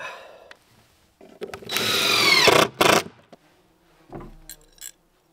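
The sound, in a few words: cordless power drill with dying battery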